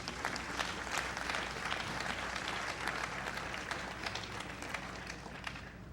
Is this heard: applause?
yes